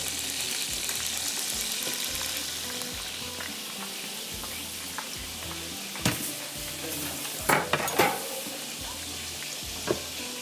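Sliced onions fry in butter and oil in a pan, a steady soft sizzle with occasional clicks and clatters of utensils toward the end.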